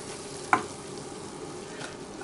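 Cauliflower boils in a pot of water, giving a steady bubbling hiss with one sharp click near the start and no voices.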